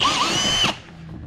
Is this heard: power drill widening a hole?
yes